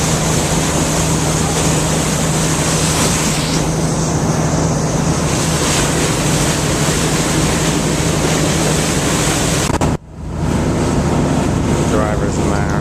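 A boat motor runs loudly on open water as waves slap and wind buffets the microphone in a constant roar, with a sudden brief dip near the end before the rumble resumes.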